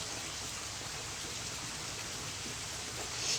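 Steady rain falls outdoors in the countryside, a dense, even hiss with no breaks and no voices throughout.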